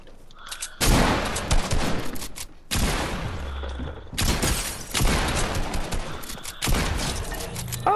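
Bursts of rapid gunshots in a first-person shooter video game, loud and close, with several sustained volleys separated by brief pauses.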